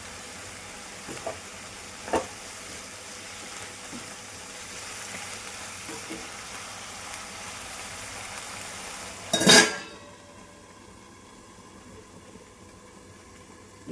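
Amaranth leaves fry in a pan over medium heat with a continuous quiet sizzle and a few light taps. A short scraping clatter comes near the end, after which the hiss drops away.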